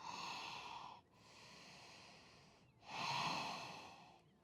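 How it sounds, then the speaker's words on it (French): Deep breaths during a vinyasa yoga flow: a long audible exhale, a softer inhale, then another strong exhale through the nose and mouth, close and breathy, with no talking. "Allez, encore quelques respirations ici."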